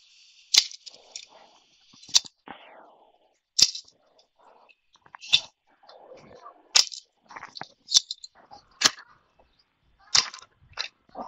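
Repeated sharp gunshots fired with a quick reload, about eight cracks at a steady pace roughly every one to one and a half seconds, with faint handling clicks in between.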